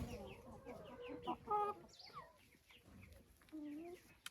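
Hens cluck and call in a trampled outdoor enclosure, with a steady run of close, overlapping clucks and short squawks, plus a brief, louder bout of cackling near the middle.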